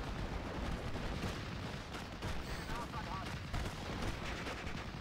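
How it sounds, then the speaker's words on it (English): Artillery and gunfire rumble in a Normandy 1944 tank battle of the strategy game Steel Division, a dense continuous barrage of booms and crackling shots at steady loudness. "And the artillery."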